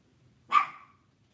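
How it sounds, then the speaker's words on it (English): A single short, high bark from a chihuahua indoors, brief and moderately loud in an otherwise quiet room. "The noisy chihuahua's in the house."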